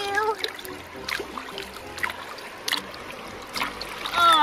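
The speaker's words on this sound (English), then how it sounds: "Splash. I splash you." Toddlers splash water in a river with a few sharp, scattered slaps and splatters, near and moderately loud, while children's voices chatter between and over them.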